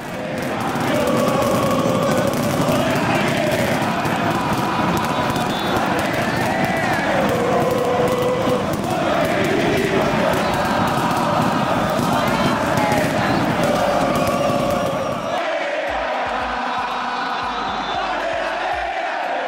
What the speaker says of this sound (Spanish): Entre las tiritas de papel, los fuegos artificiales, las bengalas de colores, hizo un ambiente impresionante.